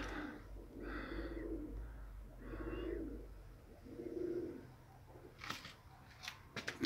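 Pigeons coo in three soft, low calls at a moderate distance, followed by a few sharp fluttering bursts as the birds circle overhead.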